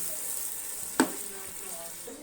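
About 1.5 kg of tomatoes fry in a pan for fish biryani masala, a steady bright sizzle with one sharp clink of a utensil partway through.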